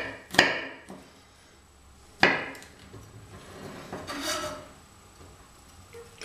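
A knife chops garlic cloves on a cutting board for pesto, with a few sharp, close knocks spaced out between quieter scraping and light rustling.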